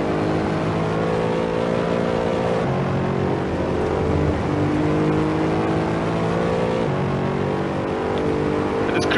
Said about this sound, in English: this Mercedes will stretch its legs on this long straight